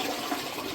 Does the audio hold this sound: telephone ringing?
no